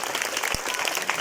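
An audience at a motivational youth talk claps together in a dense, steady burst of applause with a single low thump partway through, filling the short moment without voices.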